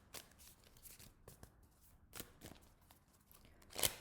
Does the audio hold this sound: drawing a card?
yes